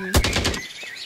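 A burst of rapid gunfire in the ZombiesWaves video game, about half a second of loud repeated shots that fades quickly into a quiet ringing tail.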